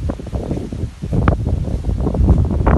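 Warm wind gusting beside the Atlantic Ocean in the Dominican Republic, a loud rushing buffet on the microphone that rises and falls, with a faint wash of surf and rustling beneath.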